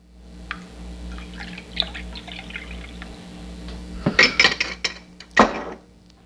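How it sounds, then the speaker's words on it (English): Ginger beer poured into a rum cocktail with basil, a soft liquid trickle followed by clinks and splashy fizz against the glass, close and quiet with no talking. "Top that off with ginger beer."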